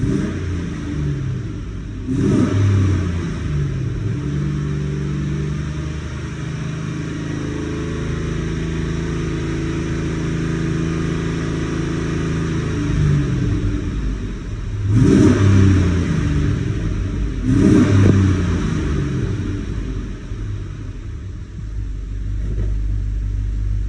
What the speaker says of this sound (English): So motor sounds really good, you know, when you put your foot down.